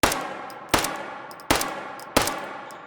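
A .22 caliber handgun fired one-handed in the H3VR video game: four sharp, evenly spaced gunshots with short ringing decays, close and loud, each followed by a brief mechanical click.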